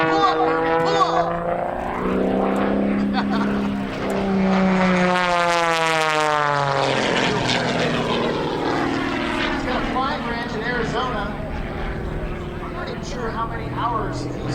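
An aerobatic propeller plane flies snap rolls at an airshow. Its engine drone rises and falls and sweeps in pitch as it passes, with people talking over it.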